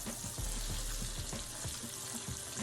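Chicken tenders deep-fry in hot oil with a steady, loud crackling sizzle and scattered pops, close up, with no talking.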